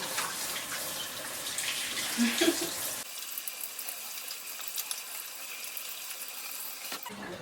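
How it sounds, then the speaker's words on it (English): Tap water runs steadily into a sink during handwashing, a close hissing gush that changes tone partway through as the stream shifts, continuing to the end. "Now I gotta wash my hands so I can get another spoon"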